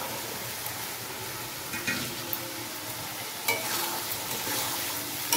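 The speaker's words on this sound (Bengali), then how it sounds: "এটাও আমি একটু কষিয়ে নেব।" Spices and peas frying in oil for ghugni, a dense continuous sizzle close up, with occasional stirring scrapes and a brief quiet voice.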